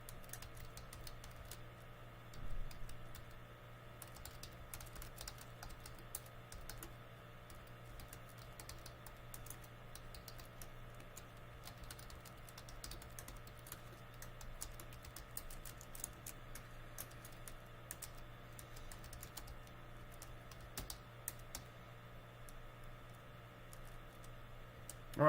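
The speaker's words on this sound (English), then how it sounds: "let me take the time to type that out" Quiet typing on a computer keyboard, a steady run of soft, rapid key clicks over a low electrical hum, continuing for a long stretch.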